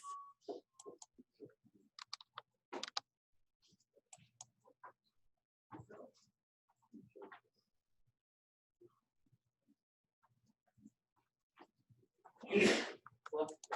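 A single sharp sneeze bursts out near the end, loud and brief, after a quiet stretch of scattered keyboard clicks and faint, intermittent talk.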